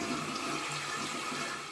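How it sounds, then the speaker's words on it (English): A household toilet flushes with a loud, close, steady rush of water, dense and broad for under two seconds and easing slightly at the end. "So, let's flush it."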